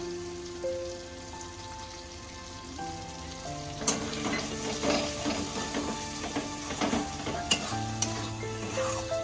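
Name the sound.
stirring cashew paste into fried paneer masala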